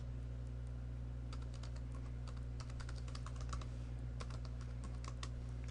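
Keys clatter on a computer keyboard as a zip command is typed at a terminal, in quick irregular bursts of clicks over a steady low hum, close and fairly quiet.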